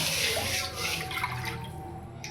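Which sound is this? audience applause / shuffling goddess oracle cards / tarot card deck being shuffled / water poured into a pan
water poured into a pan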